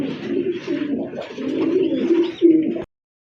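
A big pigeon coos close by in a low, throaty, rolling run of calls lasting nearly three seconds before stopping abruptly.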